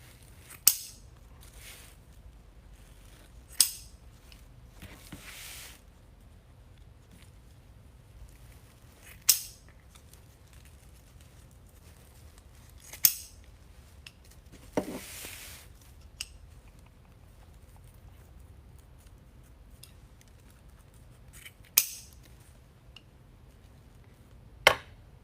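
Sharp, crisp snips of scissors cutting deco mesh for a wreath, spaced irregularly every few seconds against a quiet background hum.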